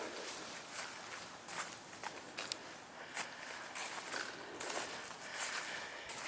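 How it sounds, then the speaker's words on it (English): Footsteps of someone walking on a forest trail strewn with leaves, faint crunching and rustling steps at a loose, uneven rhythm with soft ambient noise. "You can hear footsteps from someone"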